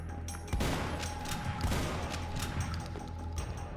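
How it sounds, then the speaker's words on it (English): Shotgun fire in the game Huntdown, a few heavy blasts with clattering impacts amid busy game action, loud and close. "That's a bad thing about the shotgun."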